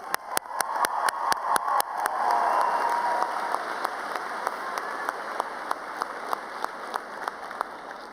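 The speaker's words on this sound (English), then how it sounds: "Let's give these super parent graduates another round of applause." An audience at a college commencement ceremony applauds steadily, a dense wash of clapping with a few sharp individual claps standing out, fairly loud and sustained throughout.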